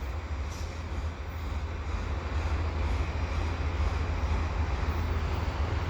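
An eastbound CN general manifest freight train rolls past at the Dorval ramps, a steady low rumble and grinding wheel noise that builds slightly and holds throughout, fairly distant, with no voices.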